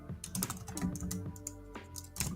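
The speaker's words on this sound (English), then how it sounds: "typing." Computer keyboard being typed on, a quick run of close clicky keystrokes in uneven bursts with a short pause midway, no talking.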